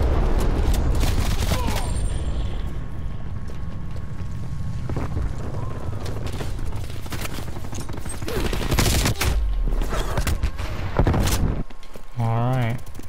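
Pistol gunfire in the Call of Duty Black Ops Cold War shooter, with scattered shots over a dense, windy game soundscape; a voice speaks briefly near the end.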